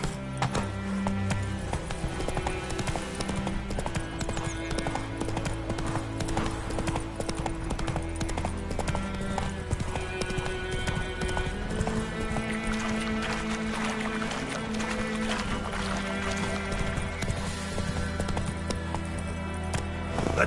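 A horse gallops in The Witcher 3: Wild Hunt, hooves clip-clopping in a fast, continuous rhythm over a full bed of game music and ambience.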